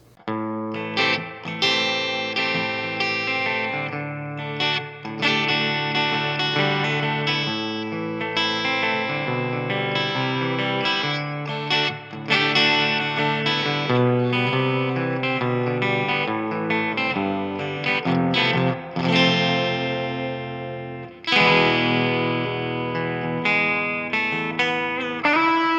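Electric guitar played in classic country and rockabilly style through real amplifiers and pedals, a continuous run of twangy picked notes and chords with effects, loud and close, with no talking.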